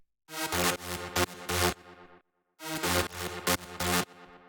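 A tech house synth lead plays stabbing chords in two short bursts split by a brief gap, bright and punchy with no voices over it.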